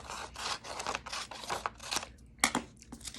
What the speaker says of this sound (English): So I'm working on getting that second line cut out.